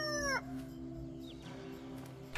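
A rooster crows once, near and fairly clear, its call breaking off quickly into a quiet farmyard hum with faint bird chirps afterwards.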